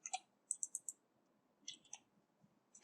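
Light keystrokes on a computer keyboard, tapped out in two short quick bursts with a pause between, close and fairly quiet.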